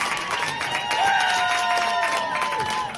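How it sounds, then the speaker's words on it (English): Crowd noise swells at a women's NPL football match between Western Sydney Wanderers and Western City Rangers after an opening goal, with cheering and scattered clapping under a commentator's excited voice. "Listen to the crowd."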